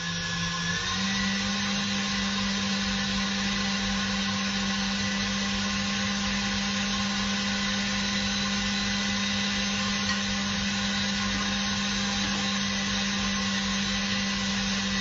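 A mixer runs at high speed whipping sugar and egg white into meringue for a master patissier, producing a loud, unbroken, even whine that holds steady throughout with no voices.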